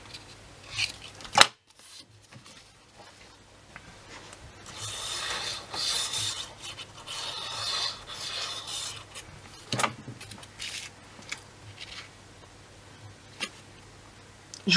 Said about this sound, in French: Et du coup, on va plier. Biseauter et coller.